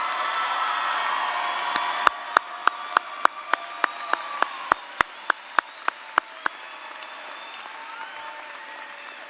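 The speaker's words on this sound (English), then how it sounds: "let's have one more round of applause" Audience applause at a high school graduation ceremony, a steady wash of clapping with a few sharp claps standing out in a regular run midway, then easing off toward the end.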